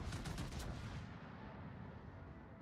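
Battleship guns fire on the Yamato in World of Warships, a cluster of booming reports in the first second that quickly gives way to a low, fading rumble.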